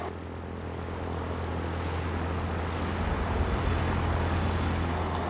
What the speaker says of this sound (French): Et ça y est, c'est parti, on décolle.